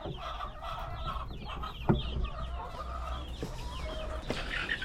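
Hens in a backyard laying coop with rusty flooring cluck in a steady, busy chorus, close and moderately loud, with one sharper squawk partway through.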